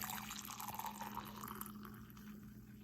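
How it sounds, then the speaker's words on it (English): Homemade French vanilla hot chocolate pours steadily into a cup, a continuous soft liquid splash and trickle that stays close and even for a few seconds, with a faint background hum. "you're just gonna pour it into a cup"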